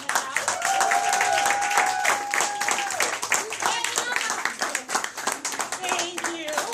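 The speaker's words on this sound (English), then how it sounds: "So I'd like a big hand for Bernice for stepping up and helping us out." Guests at a post-season baseball team picnic applaud for Bernice with a burst of outdoor clapping and scattered voices, the clapping thinning into talk partway through.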